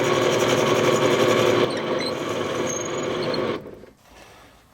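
Drill boring a through hole in a 1.25 by 1.5 inch wooden piece, a steady close mechanical whir that stops near the end, leaving quiet before another burst starts.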